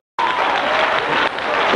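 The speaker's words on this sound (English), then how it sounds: "Come on here and clap your hands to God." A church congregation breaks into clapping all at once, a sudden burst of dense hand claps that carries on evenly and loudly with no talk over it.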